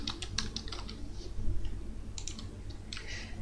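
Steady typing of code on a computer keyboard, with quick irregular bursts of light key clicks over a low background hum, close and moderately quiet.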